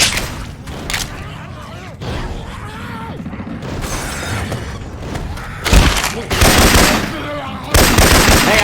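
Gunfire from Syphon Filter weapon sound effects in Left 4 Dead 2, with rapid bursts of shots and sharp, loud blasts mixed with clattering mechanical game noise and chaotic background sounds.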